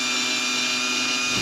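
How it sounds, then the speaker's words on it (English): A power drill runs steadily in cold conditions while someone works on a car, giving a constant high-pitched motor whine that is fairly faint and close, with no talk. "We're ready to try drilling?"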